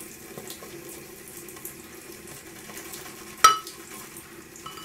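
A bathroom tap runs a thin dribble of water for wetting shaving lather in a smooth, unribbed bowl, heard as a steady, faint, close trickle with one sharp click partway through.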